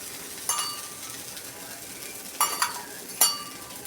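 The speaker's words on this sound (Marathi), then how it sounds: "आता आपण असं बाजूला तेल सोडून देऊ आणि कमी गॅसवरच थोडं शिजू द्यायचं" Bottle gourd thalipeeth cooking in oil on a low gas flame, a soft continuous sizzle with a few clinking utensil taps scattered through.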